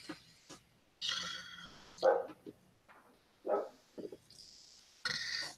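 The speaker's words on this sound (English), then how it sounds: "The next door dog." A neighbour's dog barks a few times from next door, sharp yaps separated by short pauses, sounding a bit distant and fairly quiet, with no talk over them.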